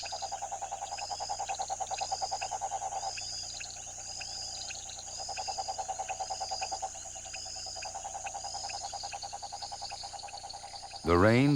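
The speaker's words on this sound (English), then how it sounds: "when the conditions are just right, the frogs begin to breed." A dense, steady chorus of frogs croaking and calling in the flooded Pantanal during the rainy season, rhythmic pulsing calls overlapping continuously with faint insects, ending in a sudden louder burst of sound.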